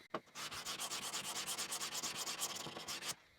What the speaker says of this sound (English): if I get a nice even sand and it all disappears, that means we did it